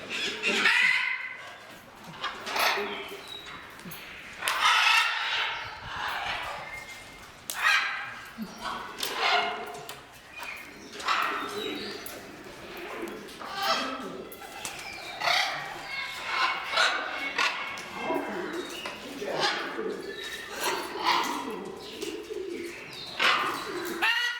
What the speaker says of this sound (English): this is a big room with about 33 macaws in here